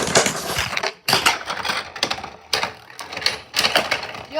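Beyblade spinning tops, Vanish Fafnir among them, launched in a test battle, rattle and clack in dense bursts of metallic scraping and knocking, broken by brief pauses, close and loud.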